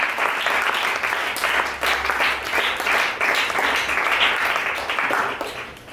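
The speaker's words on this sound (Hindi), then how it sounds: "क्या ताली बजा सकते?" Church congregation at a Pentecost meeting clapping together, a dense sustained round of applause lasting the whole stretch, steady and fairly loud with no speech over it.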